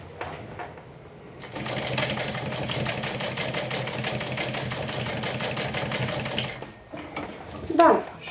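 A sewing machine stitching down a bag's shoulder strap runs in a fast, even burst of rapid needle clatter for several seconds, close to the microphone, with quieter handling sounds and a voice before and after.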